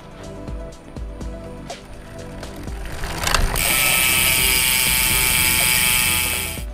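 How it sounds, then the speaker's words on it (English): The freewheel hub of a Java Siluro 3 bicycle with Shimano Sora components clicks in a rapid, close ratcheting run that speeds up into a dense, loud buzz before slowly fading. "And you all must be wondering how the hub of the bike sounds like."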